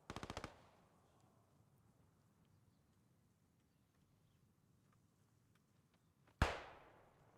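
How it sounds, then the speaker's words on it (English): Distant machine gun in Post Scriptum, a short rapid burst of about five shots at the start, followed by quiet ambience and a single louder sharp crack with a ringing tail near the end. "Zoid's squad is actually under fire from an MG"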